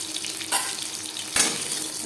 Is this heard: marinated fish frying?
yes